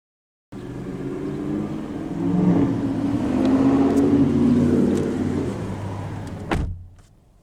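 A 2023 Subaru Outback Premium engine cranks and catches, then settles into a steady close idle with a swelling hum, ending in a sharp click as it cuts off.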